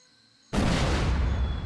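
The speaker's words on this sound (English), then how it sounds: "I'd better fire the cannon." A sudden loud boom erupts after a quiet moment and rolls on as a sustained roaring blast, a heavy cannon fired in the point-and-click game Monkey Island 2: LeChuck's Revenge.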